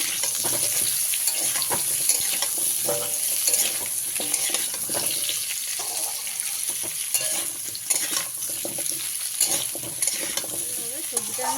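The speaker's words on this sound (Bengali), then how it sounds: "এবারে সবজিটাকে ভালো করে ভাজা ভাজা করে নিই" Kohlrabi and pumpkin sizzle steadily in a hot pan while a utensil scrapes and stirs in repeated strokes, close up.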